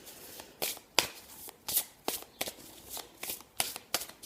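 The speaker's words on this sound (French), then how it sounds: "j'avais envie de prendre 3 cartes tout de suite avec les cartes miroirs" Mirror cards being shuffled by hand, a close rhythmic series of crisp riffling swishes and soft slaps, roughly two per second, with no talking.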